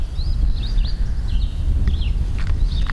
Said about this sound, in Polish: Cisza, tylko ptaki.